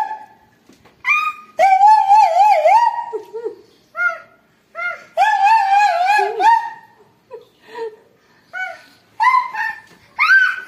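A puppy whimpers and howls in a series of high, wavering whines and drawn-out cries, loud and close, with short pauses between the bursts.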